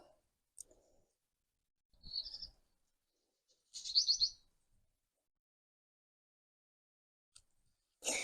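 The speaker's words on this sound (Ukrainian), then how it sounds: "Співай, співай, пташечка. Співай дорогенька." Outdoors in a vegetable garden, a small bird sings in short separate bursts of bright, high chirping trills, spaced by quiet pauses, fairly close and clear.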